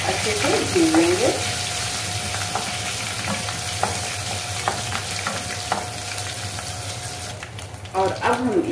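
Bay leaves, mustard seeds and cumin sputter in hot oil, a steady close sizzle with light stirring taps, while someone talks briefly at the start and end.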